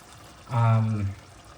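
Water poured from a kettle or jug onto a chicken stock cube for osso buco, a single short pour of about half a second that rises and tapers off, close and clear against a quiet kitchen background.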